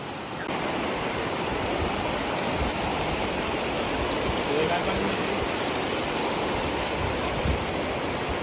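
A loud, steady rush of falling water at Marleshwar waterfall fills the air, a constant broadband roar with no pauses.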